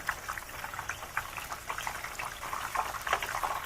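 Okoy, a Filipino shrimp fritter mixture, sizzling and crackling in hot oil in a pan, a steady close bubbling fry with dense spitting pops and no talking.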